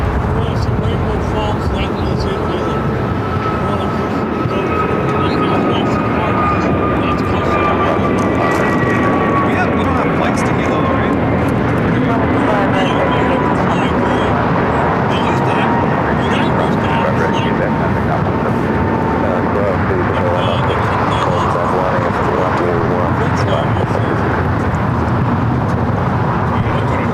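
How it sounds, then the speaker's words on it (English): A China Eastern Boeing 777 departs LAX bound for Shanghai with a loud, continuous jet roar that fills the whole stretch, and a high engine whine slides slowly downward as it passes. "China Eastern 777 heading back to Shanghai"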